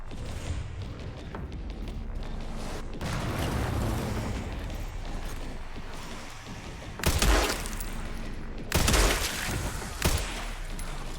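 Dense gunfire and booming blasts in Resident Evil 9 during an intense endgame fight, a steady rumble of shots with two louder bursts of explosions near the end.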